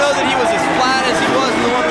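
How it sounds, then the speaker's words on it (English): Crowd at the 2005 X Games Moto X Best Trick event, a dense continuous roar of cheering and babble, loud and steady, with voices mixed in. "The crowd's digging it. The crowd's loving this."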